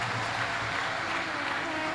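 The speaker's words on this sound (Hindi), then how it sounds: "एक बार जोरदार ताली बजाकर उनके लिए साधु का।" Dense, steady applause from a large audience at a Shiv Mahapuran katha gathering in Bhopal, a continuous wash of many hands clapping loudly throughout without a break.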